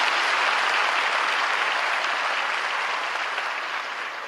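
A large crowd at a public address gives sustained applause, a thick, even roar of clapping that fades slightly toward the end.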